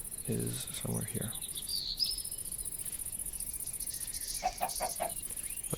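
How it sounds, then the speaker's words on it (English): A Minecraft chicken clucks in a cave: a few quick, close clucks near the start, more short clucks toward the end, and a continuous high cricket-like chirring throughout. "And the chicken is somewhere here."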